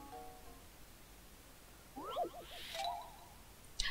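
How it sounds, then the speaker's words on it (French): A cat meows in the Professor Layton video game, a pair of short mid-pitched meows after quiet game background, with a faint chime near the end. "Oh, le chat."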